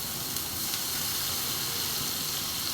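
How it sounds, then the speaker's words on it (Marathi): Salt water splashed onto a hot dosa griddle sizzles with a steady, faint hiss of steam throughout, no talking. "मी तवा तापत ठेवला आहे. मिठाचं पाणी टाकते पहिले सर्वप्रथम."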